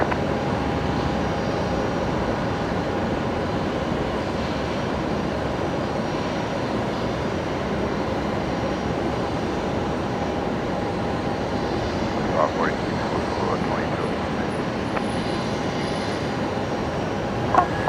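Boeing 737 MAX jet engine at Brisbane Airport, a steady broad roar holding at even loudness from start to end, with faint distant talk underneath.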